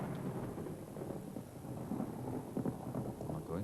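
Thunder rumbles low and continuous in a 1992 British TV sitcom scene, a heavy rolling bed with rain-like texture and a few louder swells near the end.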